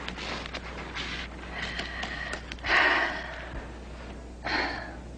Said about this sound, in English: I'd like to listen to you breathe a little.